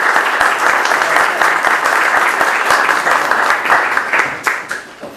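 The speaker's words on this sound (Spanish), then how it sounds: "Quiero un primer aplauso para él." Sustained audience applause for the poet Antonio at a cultural event, dense and steady from a crowd, holding for several seconds before thinning toward the end.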